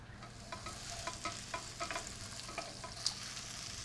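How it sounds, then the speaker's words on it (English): Onions sautéing in a pan, a soft continuous sizzle broken by regular scraping stirs about twice a second, close but fairly quiet, with one sharp tick near the end. "So I want a little bit of color on these onions, bit of that caramelization"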